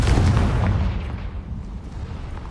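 A Confringo blasting spell explosion in a Harry Potter video game: a loud, deep boom at the start that fades into a rumbling, crackling tail over about two seconds.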